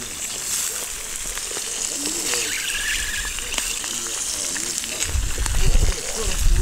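Vegetables sizzle in a saj over an open campfire for Azerbaijani-style grilled carp, a steady broadband hiss running throughout with faint crackles, growing louder near the end, while a voice talks over it.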